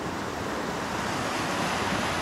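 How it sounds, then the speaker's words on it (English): Cold water in a deeper creek on a forest hike in Oregon rushes steadily and fairly close, a continuous broadband wash with no voices over it. "So we got a deeper creek on this side"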